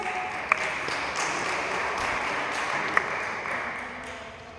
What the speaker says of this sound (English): clap it up for Dr. Lawrence